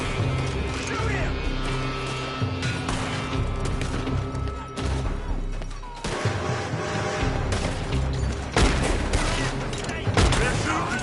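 Dense gunfire crackles and booms through a Red Dead Redemption 2 shootout, with repeated overlapping shots, crashes and steady action noise, while voices shout over the fight throughout.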